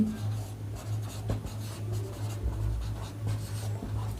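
An answer to a set theory problem written by hand, a steady soft scratching of pen or pencil on paper that continues alone for several seconds under a low constant hum.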